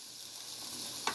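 Pork chops sizzle and fry in grease on an indoor house grill, a steady close hiss with a brief stir or clack at the end.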